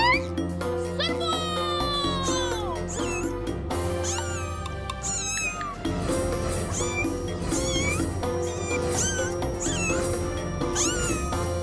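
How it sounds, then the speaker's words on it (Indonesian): Cartoon cats meowing and caterwauling in a frantic attack, many high rising and falling yowls overlapping above lively background music, with child-like voices chattering amid the chaos. "Kucing, serbu."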